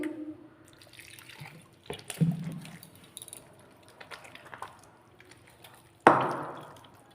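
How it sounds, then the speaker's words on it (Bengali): Water splashes and trickles into a bowl of palm-fruit batter for phulури, with a few short pours and wet sloshing, then a sharp louder splash near the end, all close and without speech. "এখনও জল দিতে হবে দেখুন"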